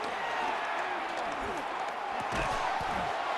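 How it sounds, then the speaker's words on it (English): A Madden NFL 26 video game crowd roars in a dense, steady wash of cheering ahead of a big third down, with a voice faintly beneath it. "the crowd getting into it as we come up on a big 3rd down"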